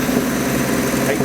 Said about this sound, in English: It's such a happy little motor.